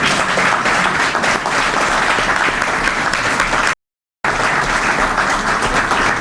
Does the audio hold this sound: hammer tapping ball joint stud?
no